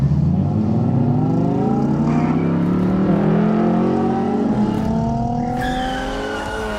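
Diecast toy cars racing down a downhill track in a tournament heat, a continuous close rolling whir that rises and shifts as the cars run, alone without talk, fading toward the end.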